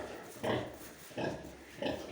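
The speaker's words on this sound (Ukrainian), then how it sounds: "І лежить, і рохкає, і, і вивертається." A heavily pregnant sow lying in a barn shed, grunting in three low, evenly spaced bursts about every 0.7 seconds, moderately close with quiet room noise between.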